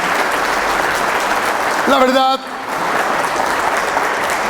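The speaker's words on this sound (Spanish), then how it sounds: "Denle un aplauso al Rey en esta mañana." A church congregation at a Sunday service applauds in a steady, dense wash of clapping throughout. A voice speaks briefly over it partway through.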